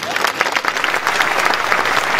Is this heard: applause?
yes